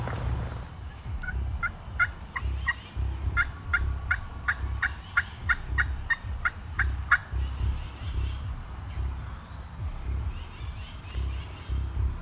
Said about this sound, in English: way off in the distance, I hear a gobble.